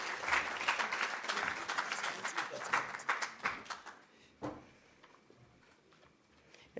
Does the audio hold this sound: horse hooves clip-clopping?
no